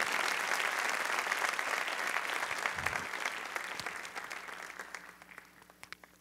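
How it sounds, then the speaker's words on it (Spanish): A church congregation at a Spanish-language service applauds together. The sustained clapping begins fairly loud, then gradually thins and fades over several seconds, with no talk over it. "Démosle un aplauso al Señor."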